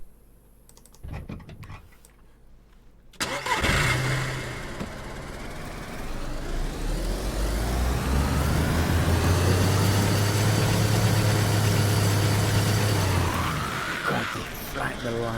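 A car engine in DayZ turns over after some light clicking, then settles into a steady low idle that holds for several seconds before trailing off near the end.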